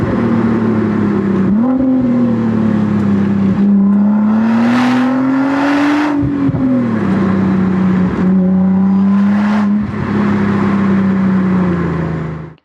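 Nissan GT-R R35 with all-wheel drive and nearly 500 horsepower accelerating hard, a loud continuous engine drone that climbs in pitch, dips at gear changes and keeps pulling for the whole stretch with no talk.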